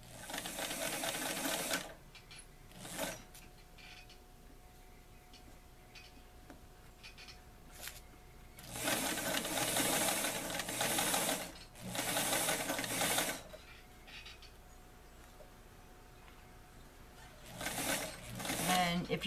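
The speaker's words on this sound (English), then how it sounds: "Don't forget to backstitch." A sewing machine backstitches a doll apron made from a Simplicity 2761 pattern for an 18-inch doll, running in several short bursts separated by quiet pauses, close and fairly loud.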